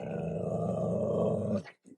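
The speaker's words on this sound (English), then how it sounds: "We got the guard dog on, dude." A guard dog growls low and continuously for about a second and a half at close range, then gives a brief huff before falling silent.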